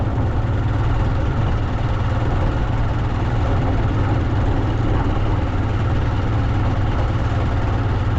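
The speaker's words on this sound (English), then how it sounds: "And a big tractor is coming, heading to Nairobi." Heavy tractor engine droning loud and steady with a deep low rumble on a road near a border town, a continuous mechanical roar without talk.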